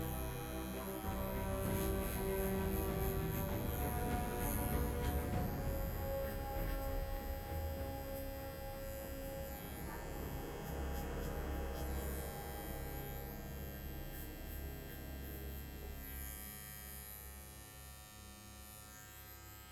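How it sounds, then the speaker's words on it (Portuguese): An electric hair clipper runs steadily through a short barbershop haircut, a close continuous buzzing hum with shifting tone as the blades move over the head, and no voices. "vem com minha máquina"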